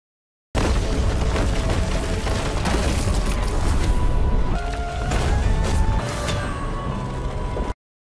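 A loud, dense rumbling blast with crashing debris fills the whole stretch, steady and overwhelming with no voices.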